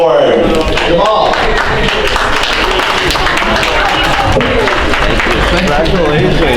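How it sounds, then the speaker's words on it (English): A festival crowd applauds an award winner, a loud, dense and continuous clapping that fills the whole stretch, with some voices mixed into it. "let's give him a round of applause"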